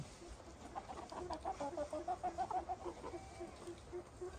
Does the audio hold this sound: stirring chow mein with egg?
no